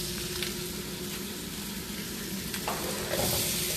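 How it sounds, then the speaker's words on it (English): Onions hit a hot stir-fry pan for a sesame chicken dish and sizzle steadily, a loud continuous frying hiss with light stirring scrapes and no talk. "these onions are ready to go ahead and add in."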